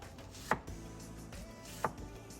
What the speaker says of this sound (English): this is about half an onion. I'm just gonna cut it into smaller pieces